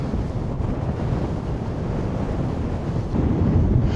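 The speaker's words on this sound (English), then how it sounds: "That's proper windy." Strong wind at Nordkapp in northern Norway roars steadily across the microphone, a dense, loud buffeting rush that swells slightly toward the end, with no voices.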